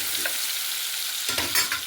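Tomato with salt and four green chillies frying in oil in a pan for a Bengali tel koi dish, a steady close sizzle that swells when a spatula scrapes and stirs near the end, no talking.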